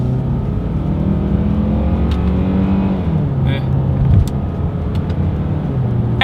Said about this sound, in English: we are going to do an acceleration test, a paddle shifter test here together